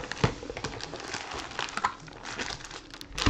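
A plastic bag crinkles and rustles as it is handled during a trading card box opening, with soft irregular crackles and small snaps throughout, fairly quiet and up close, with no speech.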